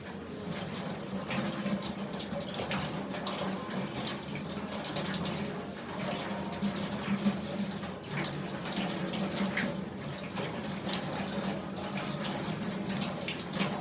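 Water runs steadily from a tap over an object held beneath it, a continuous close rush and splash that holds at an even level throughout with no talking.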